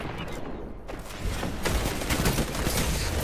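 Pulse rifle fire in Destiny 2 PvP comes as dense, loud bursts of rapid shots, growing heavier and more continuous after the first second, with other game sounds mixed in.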